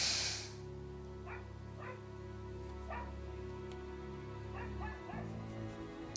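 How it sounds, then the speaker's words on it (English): A dog barks and yips in several short, separate bursts in the background, fairly faint and distant, over a steady low electrical hum indoors. "Why is my dog barking?"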